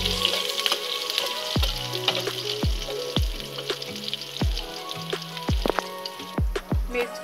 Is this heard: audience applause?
no